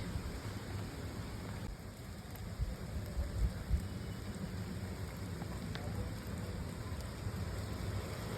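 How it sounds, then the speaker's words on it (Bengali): Heavy monsoon rain pours down in a steady, dense hiss with a low rumbling undertone. It holds at an even level throughout, with no voices over it. "বৃষ্টি নেমে গেছে আর পারা যাচ্ছে না বৃষ্টিতে ঝমঝম ঝমঝম করে বৃষ্টি"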